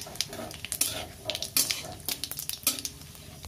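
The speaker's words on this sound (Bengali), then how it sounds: "সর্ষের তেলটা গরম হলে তেজপাতা, গোটা লঙ্কা আর গোটা শুকনো লঙ্কা আর জিরেটা" Bay leaf, whole green and dried red chillies and cumin crackling in hot mustard oil in a pan, busy close spitting and popping with clinks of a utensil against the pan.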